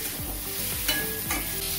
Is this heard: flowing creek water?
no